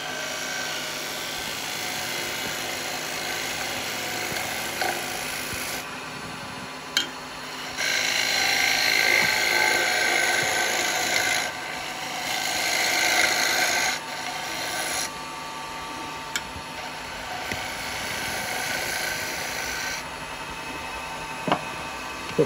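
A wooden cowboy hat is turned on a lathe with carbide chisels, producing a continuous motor drone and hiss broken by louder, harsher stretches of scraping as the tool bites, close and steady for the whole stretch.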